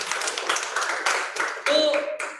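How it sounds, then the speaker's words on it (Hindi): A group claps hands on request during an acting and theatre class, a dense burst of applause-like clapping over a couple of seconds, with children's voices mixed in. "एक बार ताली बजाइए।"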